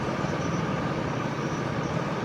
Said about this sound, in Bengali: আবার মোটরসাইকেল